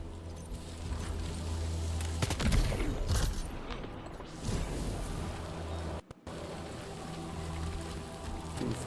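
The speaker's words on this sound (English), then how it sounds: "Who the fuck heard a gunshot?" Gunfire in the video game Death Stranding 2: a couple of sharp, punchy shots and a burst of cracking impacts in the middle, set against a steady low in-game drone and rumble.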